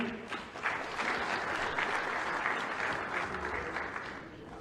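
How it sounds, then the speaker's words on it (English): Applause from a stage audience greeting a performer, a steady, dense wash of clapping hands that carries evenly throughout without voices on top. "please let's give him a round of applause."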